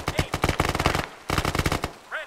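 Rapid bursts of automatic gunfire from the Aussie Rage video game sound loud and close, two long strings of rattling shots separated by a short gap, followed by a brief chirping tone at the end.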